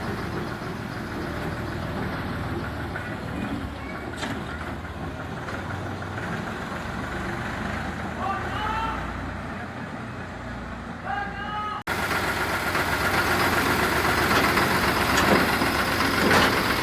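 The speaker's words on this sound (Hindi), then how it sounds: "बबलू भाई HMT 3511 को सर्विस करवाने ले जाते हुए" An antique HMT 3511 diesel tractor engine idles steadily up close, its low rumble continuous, getting louder and rougher near the end as it revs.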